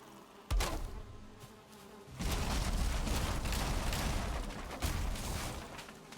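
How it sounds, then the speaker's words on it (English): A dense swarm of bees droning steadily in Valheim, a loud broadband buzz that swells after a brief quieter lead-in and holds, with a few sharp bumps over it. "I've never seen so many bees on a... I don't know, is that normal?"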